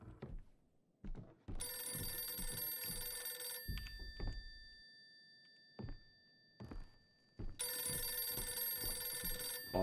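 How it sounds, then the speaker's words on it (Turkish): Old telephones ring repeatedly inside the horror game Visage, loud bursts of bell ringing separated by dull thuds and footsteps, with quiet pauses between the rings. "Abi telefonlar melefonlar çalmaya başladı."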